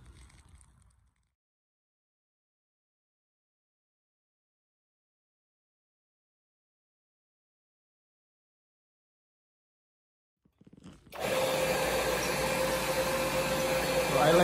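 Near silence gives way to a vacuum cleaner starting up and running steadily and loudly as it cleans a dirty rug full of hair and dry soil.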